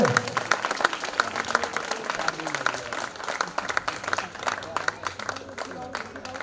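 An audience at a 1993-batch high school reunion in Pattamundai breaks into applause, a dense patter of many hands clapping at close range that runs throughout, with talk mixed in.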